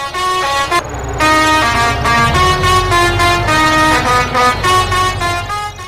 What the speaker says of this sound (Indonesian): Wadidaw, mobil truk molen.